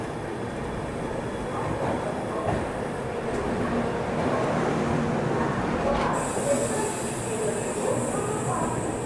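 A train rolls past during an SF Express journey between Visakhapatnam and Mahbubnagar, a loud continuous rumble of wheels and carriages with faint squeal and clatter, close by, steady throughout.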